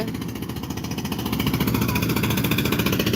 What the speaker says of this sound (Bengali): এই যে নৌকা আছে নদীতে নৌকা যাচ্ছে